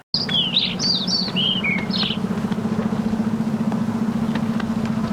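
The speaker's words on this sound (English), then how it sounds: "now I've got my Birds Atmos running behind" Bird chirps and short tweeting calls ring out clearly over the first two seconds of a birds atmosphere effect track, set above a steady low engine-like rumble that runs under the whole stretch.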